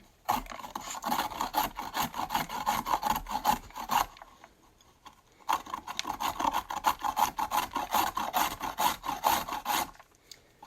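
A carrot being grated on a Tupperware grater, with close, rhythmic rasping strokes in two bursts separated by a short pause.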